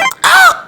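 A human voice imitates a crow's caw with one short, loud, nasal call lasting about a quarter second, heard up close and alone.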